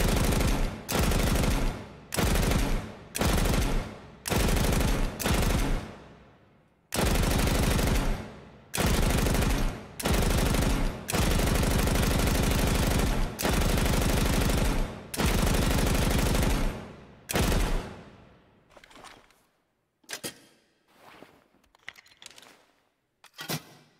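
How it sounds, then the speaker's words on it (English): A PKM machine gun fires in Ground Branch in long, loud automatic bursts separated by short pauses. Each burst cuts off sharply into a decaying echo, and the clip ends with scattered quieter clicks and handling noises. "now we got the big boy, the PKM"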